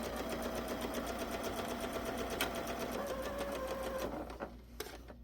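A home sewing machine runs steadily, stitching a very narrow zigzag stitch along stretch fabric, its fast needle rhythm drone continuing evenly for several seconds before slowing and stopping with a couple of final clicks.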